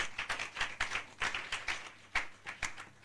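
Church congregation clapping during worship, a sparse, uneven run of hand claps, fairly faint and somewhat distant, with no talking over it.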